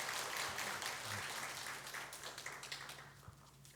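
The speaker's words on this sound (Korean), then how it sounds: "우리 박수로 우리 축복하도록" A church congregation applauds during a Sunday worship service, a soft, diffuse clapping that tapers toward the end, with individual claps becoming more distinct as it thins out.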